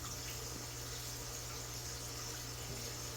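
Water drains and trickles from a handful of wet moss, a continuous close hiss of dripping liquid over a low steady hum, with no voices.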